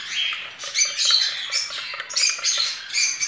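Baby lovebird, cockatiel and parakeet chicks squawk before feeding, a dense, continuous chorus of shrill, rapid begging cries from several chicks close by, loud and overlapping without pause.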